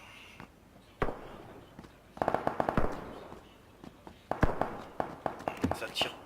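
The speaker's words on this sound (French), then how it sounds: "Ça tire partout." Gunfire crackles in PlayerUnknown's Battlegrounds, a winter map: scattered sharp shots and short bursts, some near and loud, others distant, beneath someone talking.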